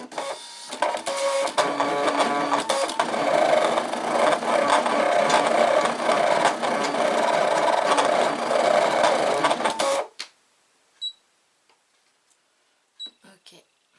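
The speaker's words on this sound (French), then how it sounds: "Hop, je mets ma lame et je fais découpe." A ScanNCut cutting machine drags its blade through material in a steady, continuous mechanical buzz and rasp for about ten seconds, then stops abruptly, leaving a few faint clicks and quiet handling noises.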